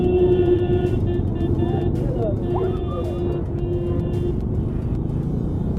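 A motorbike ridden at night on a road toward Princep Ghat in Kolkata, its engine a steady loud drone under a rider's close talk.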